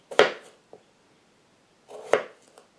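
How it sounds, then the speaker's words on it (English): Potatoes being sliced into rounds with a knife for a hobo soup: two crisp, close chops on a cutting board about two seconds apart, each followed by a small tap, with silence between. "I'm cutting the potatoes into rounds"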